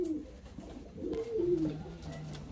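Fancy show pigeons, chest-mirrored costume breeds, give soft, rolling coos close by, several drawn-out phrases running across the short moment with no talking.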